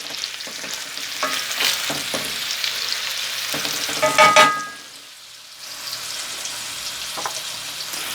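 Turkey fillets fry in a pan, with a busy sizzle and clattering utensil scrapes that swell into a loud metallic burst, fall to a brief lull, then return as a softer steady frying sound.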